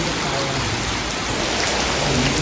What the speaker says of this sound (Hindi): बूंदे आनी शुरू हो गई।